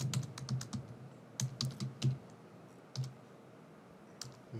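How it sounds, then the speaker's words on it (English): Fingers type a short message on a computer keyboard, quiet close key clicks coming in uneven quick runs separated by short pauses. "So let me type the message here as this:"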